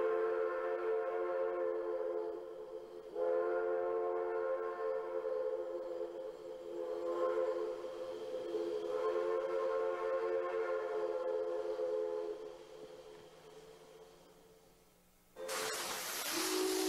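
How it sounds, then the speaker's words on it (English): Steam locomotive whistle sounds in long, loud, chord-like blasts echoing through a valley, several held tones with short gaps, then a sudden burst of steam hiss at the end. "When you hear the whistle from the steam locomotive,"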